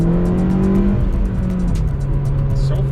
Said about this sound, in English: It's so funny how you can hear that VTEC kick